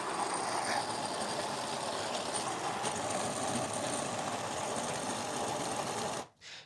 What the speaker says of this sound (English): I'll press the grind button now.